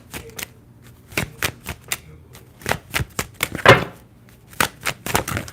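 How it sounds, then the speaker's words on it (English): Tarot cards shuffled by hand, a string of crisp, close clicks and flicks in an uneven rhythm, with a brief louder riffle in the middle and no talk. "All right, still shuffling."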